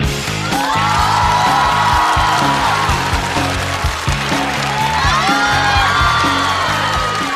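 Audience at a roast comedy show applauds and cheers to welcome a performer, with loud continuous clapping, whoops and shouts from a crowd across the whole stretch.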